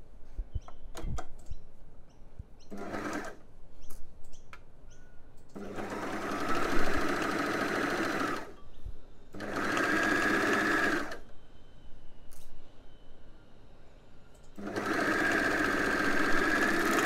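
A sewing machine stitches knicker seams in three long, steady runs separated by short pauses, with light handling clicks and rustles between bursts, close and fairly loud.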